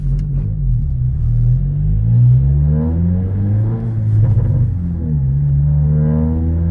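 Cabin sound of a 2022 Honda Civic Si fitted with a Remark catback exhaust: a steady deep engine rumble and drone that swells and eases as the revs change, loud and close with no talking.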